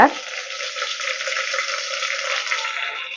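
Chopped onions sauté in a pan for biryani, a steady close-up frying sizzle with soft bubbling crackle that holds evenly throughout, no talk.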